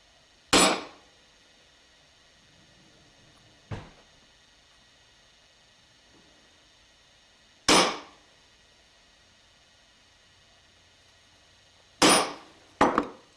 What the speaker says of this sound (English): you can just sharpen the tip and stick it where you want to drill the hole and hit it with a hammer